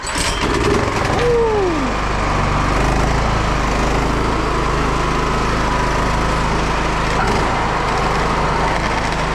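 A snowblower's small engine, which earlier would not turn over, is pulled to start, catches and keeps running with a loud, steady close drone and no talking over it.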